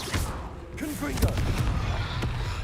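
A Confringo explosive spell from Hogwarts Legacy bursts amid ongoing combat noise, its sharp blast and crackle rising over a steady low rumble, with a voice briefly heard.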